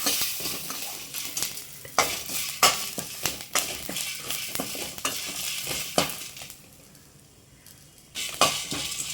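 Garlic, dry ginger and pepper sautéing in a pan for a healing pepper curry, a sizzle broken by repeated sharp spoon scrapes and clinks against the metal, close and fairly loud.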